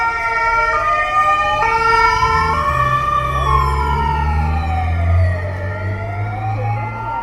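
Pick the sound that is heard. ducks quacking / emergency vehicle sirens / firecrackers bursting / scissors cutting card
emergency vehicle sirens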